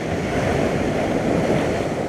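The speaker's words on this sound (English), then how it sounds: "We got a lot of waves coming in." Ocean waves roll in at Limni on Cyprus's coast, a close, continuous rumbling surf with wind buffeting the microphone.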